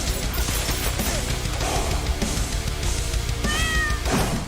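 Cats meow and yowl in a game trailer, several calls rising over a loud, dense backdrop of orchestral music and effects, with a clear drawn-out meow near the end.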